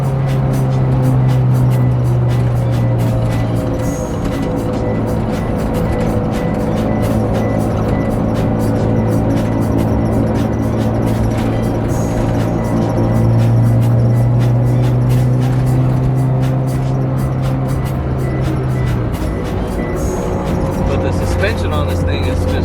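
A Honda Civic EF engine drones steadily at close range on a test drive, its pitch shifting slightly through gear changes, with a voice talking over it throughout.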